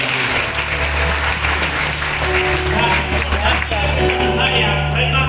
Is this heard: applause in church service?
yes